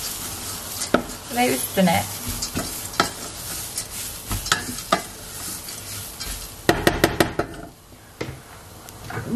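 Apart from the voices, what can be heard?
stirring lentil soup in a pot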